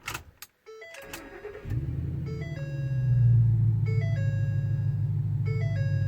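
A Ford F250 Super Duty's 6.2 V8 with a Dynomax exhaust, heard inside with the windows up, cranks briefly and catches, settling into a deep, steady rumbling idle while a chime dings repeatedly in the cab.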